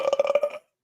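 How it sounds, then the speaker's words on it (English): A big, drawn-out human belch, loud and close, with a rough pulsing rumble lasting about half a second and then silence. "Nice big belch."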